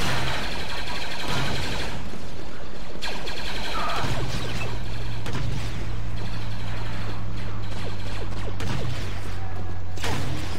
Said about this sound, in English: then there's a regular blast cannon